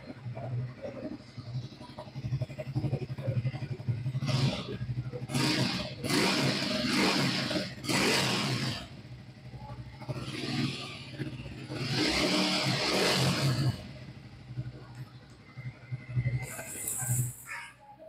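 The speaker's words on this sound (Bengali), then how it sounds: "গাড়িটা এবার আমি আপনাদেরকে একটু এক্সস্ট সাউন্ডটা শুনিয়ে দিচ্ছি।" A Triumph Speed T4 motorcycle idles with a steady low exhaust thrum, rising in several revving bursts before settling back, while someone talks over it.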